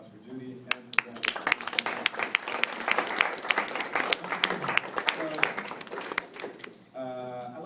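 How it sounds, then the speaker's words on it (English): Audience applause at a campus speaking event, a steady wash of many hands clapping with some louder individual claps, fading near the end before a brief voice cuts in. "if we could just get another round of applause for Judy and for Brad"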